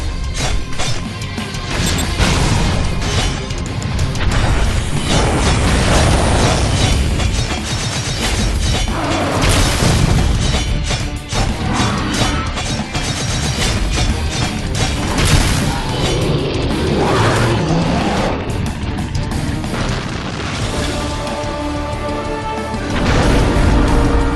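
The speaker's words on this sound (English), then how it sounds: "Now they're shooting fireballs at me!" Fireballs and explosions in the video game Implosion: a dense, loud, continuous barrage of booms, crashes and metallic mechanical clatter fills the whole stretch, with no talking.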